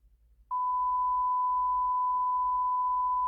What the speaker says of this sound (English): I mean, it's just a beep.